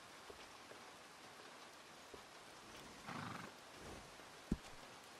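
A horse whinnies briefly and faintly in Red Dead Redemption 2, set against a soft patter like rain, with a single sharp thud shortly after.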